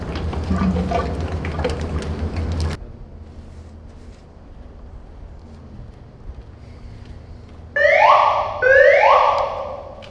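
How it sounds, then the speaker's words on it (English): An oil warning alarm sounds on the engine of an M110 self-propelled howitzer, two loud rising electronic tones near the end after the engine noise cuts off to a quiet hum. "The oil alarm's going off."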